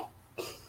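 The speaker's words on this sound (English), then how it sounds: "I'm trying to clear my throat" A single short throat clearing, quiet and close, a brief rough burst in near silence.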